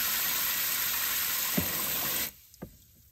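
Hose water rushing steadily into a soaking container of crystals, a loud hissing spray that stops abruptly partway, leaving faint drips and small splashes afterward.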